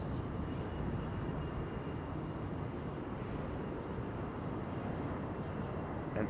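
A business jet takes off at Amsterdam Schiphol Airport, its engines a continuous broad roar heard from a distance that stays fairly even over several seconds, with no voices.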